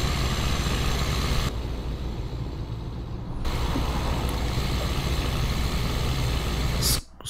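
Scania T 730 V8 truck with an RJL engine sound mod in Euro Truck Simulator 2, a steady, loud droning engine rumble running throughout with a slight shift in tone midway and a sharp hiss near the end.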